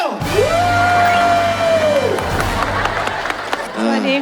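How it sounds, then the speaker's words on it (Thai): A crowd cheers, whoops and applauds at a lively comedy stage show, a loud burst over a sustained tone and music, with voices calling out amid the noise. "ปรบมือให้กับน้องหนิงปัทมาหน่อยเร็ว"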